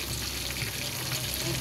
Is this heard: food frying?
yes